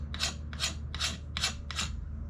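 A knife spine scrapes thin shavings from a piece of fatwood in five close, evenly spaced rasping strokes, each a short dry scratch with pauses between.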